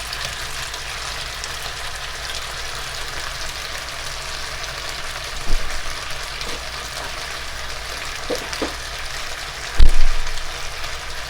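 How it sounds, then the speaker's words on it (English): Two tablespoons of butter melting in a pan for beef pepper steak give a steady, soft sizzle that stays even throughout, with a couple of brief clinks or taps near the middle and end. "So I got 2 tablespoons of butter in there. That's going to start melting."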